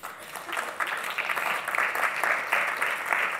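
Audience applause for a judge introduced on stage at an indie awards panel in Singapore, a continuous crowd clapping that swells slightly and holds steady, moderately loud with no talk over it.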